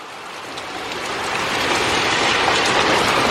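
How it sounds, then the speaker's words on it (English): Steady rain after a thunderstorm, a broad continuous hiss of drops on surfaces that grows slightly louder over a few seconds, with no voices. "It's a mere drizzle now."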